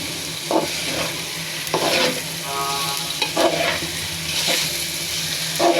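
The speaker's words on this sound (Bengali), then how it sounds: "নাড়াচাড়া করে ভেজে নিতে হবে মাছগুলো।" Small baim fish (spiny eel) frying in oil while being stirred, a steady sizzle broken by repeated scraping strokes of a spatula, close and fairly loud with no talking.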